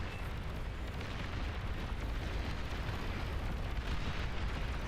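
Explosions from plasma cannon fire in a video game build into a dense, continuous low rumble with no clear separate blasts, fairly faint and steady throughout.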